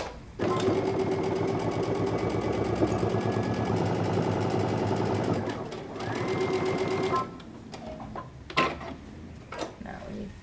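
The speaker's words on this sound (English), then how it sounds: "Now we're going to sew only our pocket to our pocket facing." A sewing machine stitches a pocket to its pocket facing for a jumpsuit, a rapid, even needle clatter running for several seconds, pausing briefly, then resuming before stopping into a few handling clicks and rustles.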